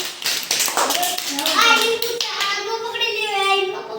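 Several quick hand claps ring out near the start, followed by a young child's sing-song voice and an adult speaking.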